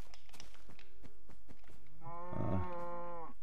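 A cow moos in the video game Minecraft, one drawn-out, close, fairly loud call near the end, preceded by faint clicks and game sounds.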